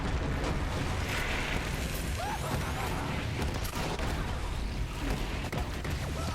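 Yellowcake weapon firing in Borderlands 3, a continuous wash of rumbling explosions and blasts, dense and moderately loud with no clear gaps between them.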